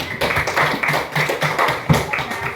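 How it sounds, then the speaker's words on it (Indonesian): Elementary school children clapping hands together in a classroom during an anti-corruption session, a short burst of uneven, rhythmic claps from a small group, fairly close and moderately loud. "Tepuk tangan."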